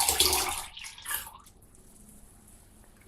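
Cold water for kombucha-making gushes and splashes loudly for about a second and a half, then stops, leaving only a quiet hiss.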